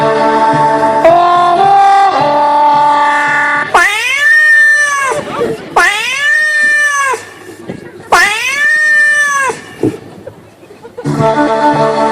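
Two cats fighting, with loud drawn-out yowls and caterwauls that rise and fall in long wavering howls, separated by short pauses, close and intense, heard without any talk.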